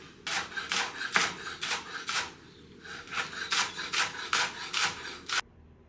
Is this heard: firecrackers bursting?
no